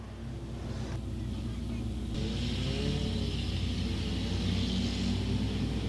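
Front-wheel-drive race cars circling Crossville Raceway during a feature race, a steady engine roar and rumble of the pack with rising revs, under a track announcer's commentary.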